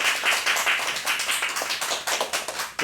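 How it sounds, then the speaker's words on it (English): Audience applause welcoming a visiting professor to a university lecture at Yonsei, a moderately close, continuous patter of many hands clapping with slight surges, thinning out toward the end. "welcome with a big round of applause"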